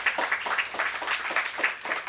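An audience at a professional meeting breaks into steady applause, a dense run of hand claps lasting a couple of seconds with no talking over it.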